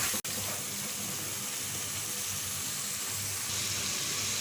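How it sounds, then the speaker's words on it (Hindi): Mutton sizzles with yogurt in a cooking pot, a steady, fairly quiet hiss that holds evenly throughout, with one brief click near the start. "अच्छी तरह से मिक्स करके इसको 2-3 मिनट भूनेंगे।"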